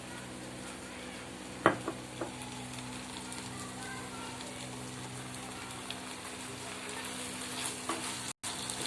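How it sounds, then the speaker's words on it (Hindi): Rava idli pieces with soy sauce tossed in a hot pan, a soft constant sizzle with a few scattered scrapes and clicks from stirring, fairly quiet throughout. "और अब मैं इसको अच्छे से मिक्स कर देता हूँ।"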